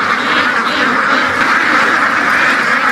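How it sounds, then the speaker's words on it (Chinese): A large flock of ducks weeding a field quacks continuously and loudly close by, a dense overlapping chorus with no gaps. "这只鸭子一过去， 那个草都要灭掉了。"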